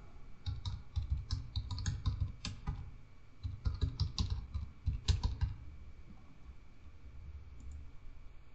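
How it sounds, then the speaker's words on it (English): Close, crisp computer keyboard typing as an email address is entered into a username field: bursts of quick clicking keystrokes, a short pause, another run of keys, then quiet. "In the username field, enter your email address and then click on the submit button."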